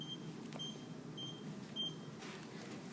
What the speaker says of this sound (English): Sorry for the beeping thermostat interruption there.